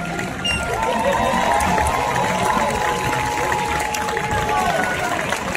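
A street crowd at a Berlin street performance cheers and applauds steadily, a dense roar of voices and clapping that stays loud throughout.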